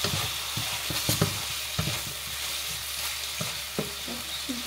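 Pansit espesyal sizzles in a hot pan while being stirred, a steady frying hiss broken by sharp clicks and scrapes of the utensil against the pan, close and without talk.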